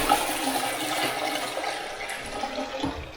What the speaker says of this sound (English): We've all seen a toilet work before.